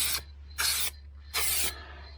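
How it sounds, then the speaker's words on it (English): Rattle can spray painting new sills on a Jaguar X-type Estate: three short hissing bursts from the aerosol can, each about a third of a second, separated by brief pauses, close and clear with no talking. "I was just really trying out the spray pattern on here first."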